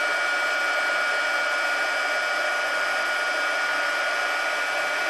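A heat tool blows steadily over embossing powder on a stamped card, a constant, fairly loud airy whoosh that holds unchanged for the whole stretch with no talking.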